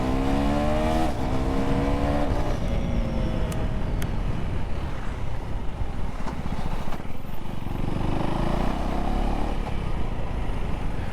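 A KTM Duke 390 motorcycle ridden on the road, its engine droning loud and steady throughout, pitch climbing with revs and shifting between gears, with wind noise close to the mic.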